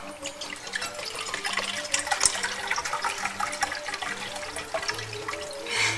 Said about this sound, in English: and a cup of white wine.